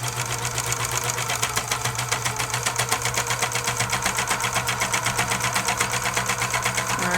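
A serger overlocks the seam of a doll's raglan shirt, running in one steady, rapid, rhythmic chatter from start to finish, close and fairly loud with no talking.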